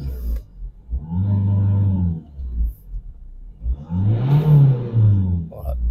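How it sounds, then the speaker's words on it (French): A Renault 1.5 dCi diesel engine revs twice while the car stands in a workshop for fuel-circuit diagnostics, each rev a deep, close rumble rising and falling, with a brief quiet gap between them. "véhicule en route. J'accélère."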